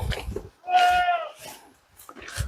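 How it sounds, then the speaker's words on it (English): A goat bleats loudly and close at a farm, a drawn-out wavering cry, with fainter bleats from other goats around it and brief murmurs in between. "Goats."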